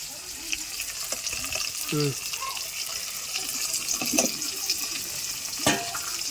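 Tomatoes and a pinch of turmeric frying in a pan for a radish and dry fish curry, with a soft steady sizzle, a few clinks of stirring and brief water splashes, and faint voices in the background.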